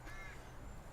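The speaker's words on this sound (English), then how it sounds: "Crows crowing." Crows caw at a campsite by Batemans Brewery, a brief harsh call near the start, then a steady outdoor background hum with no other clear calls.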